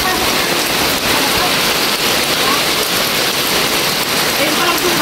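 Floodwater rushes strongly along a street during Typhoon Emong, a loud, constant roaring wash with no pauses, like heavy rain pouring nearby.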